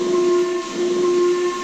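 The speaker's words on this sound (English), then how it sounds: "Yes, I am," whistled Henry" Steam locomotive whistle sounding as a steady, loud sustained tone with hissing steam around it, close by and alone for the whole short stretch.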